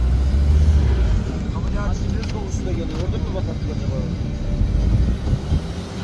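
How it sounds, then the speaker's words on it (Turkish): A Jeep Grand Cherokee reverses off-road over snowy, muddy ground, its engine a loud, close, continuous rumble with wheel and terrain noise, while people talk nearby. "Az bir geri al arabayı da bakalım ne oluyor."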